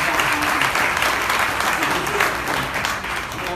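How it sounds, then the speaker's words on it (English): An audience at a travel disruption summit in New York City gives a round of applause, with continuous dense clapping that stays loud and even and only eases slightly at the end, and voices mixed in beneath it. "Please give them all a round of applause."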